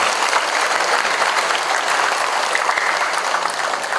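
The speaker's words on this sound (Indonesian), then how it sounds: "Kita beri tepuk tangan untuk semua yang hadir di tempat ini." Sustained, dense applause from an audience at a reading-movement event, a loud and steady wash of many hands clapping together without a break.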